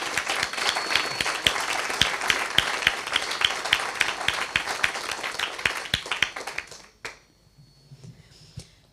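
A forum audience claps for a speaker at a closing ceremony. Dense, lively applause runs for about seven seconds, then cuts off abruptly into near quiet with faint room sound.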